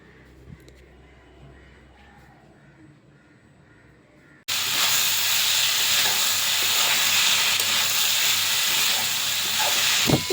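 Vegetables and peanuts frying in a pan for vegetable chops: quiet stirring at first, then a sudden loud, steady sizzle and hiss that fills the rest, with no voices.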